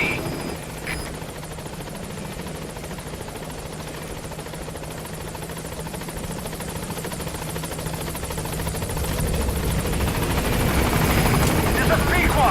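The Pequod helicopter in Metal Gear Solid 5: The Phantom Pain approaches a landing zone, a steady rotor drone that grows louder toward the end, with radio chatter under it.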